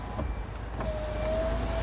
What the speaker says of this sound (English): only the driver side window is auto, as you can see